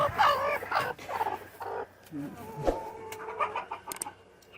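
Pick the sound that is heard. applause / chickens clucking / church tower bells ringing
chickens clucking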